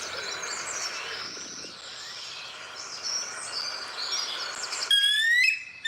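Recorded bald eagle calls play back over a quiet outdoor bed of faint bird and insect sounds, ending in a short burst of sharp, high chattering notes.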